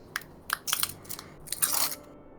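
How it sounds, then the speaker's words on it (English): Someone crunching while eating, several crisp bursts of close, fairly faint crunching and chewing spread unevenly across a quiet background. "I can still hear you crunching."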